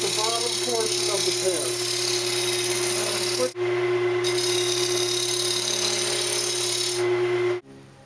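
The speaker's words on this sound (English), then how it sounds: "I'm using a 1-inch skew, and I'm working on rounding out the bottom portion of" A wood lathe drones steadily while a 1-inch skew chisel rounds the bottom of a wooden pear-shaped spice grinder, a loud constant motor hum with a brief dip partway and a cutoff near the end, with a voice talking over it.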